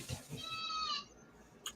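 Goats bleating in a front yard where they graze the lawn: a couple of short, wavering bleats rise clearly over quiet room tone, then fade, with a faint brief sound near the end.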